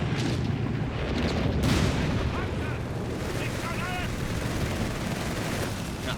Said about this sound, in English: They just took a massive hit here out of Angrybirds howitzer.